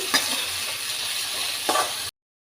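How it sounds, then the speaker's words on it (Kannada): Tomatoes fry in a pan for a potato gravy, giving a steady close sizzle with two brief stirring scrapes, then cutting off abruptly. "ಈಗ ಟೊಮಾಟೊ ಹಾಕಿ ಅದು ಮೆತ್ತಗಾಗುವ ತನಕ ಫ್ರೈ ಮಾಡಬೇಕು"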